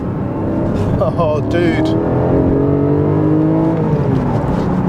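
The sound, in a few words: Porsche Cayman GTS 4.0 engine revving with auto throttle blips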